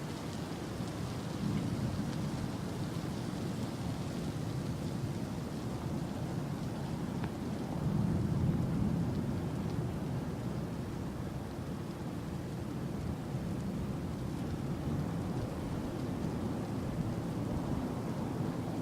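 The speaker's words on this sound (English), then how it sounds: "It is raining harder now." Heavy monsoon rain pours down in a steady, dense roar throughout, with a low rumble of thunder swelling briefly near the middle. There is no talking.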